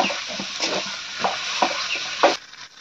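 A grandmother working a chicken pakora mixture with a spatula, a few soft scraping strokes in an irregular rhythm over a faint hiss, stopping near the end.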